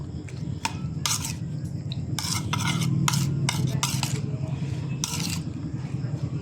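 Fresh fish being mixed by hand with salt and seasoning for grilling, giving repeated wet stirring and scraping bursts against a bowl, close and moderately loud, with a low background hum and no clear talk.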